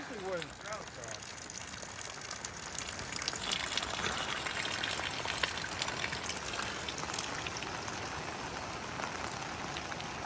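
Steady broadband rush of a waterfall near Clayton, Georgia, loud and continuous throughout, with faint voices talking underneath.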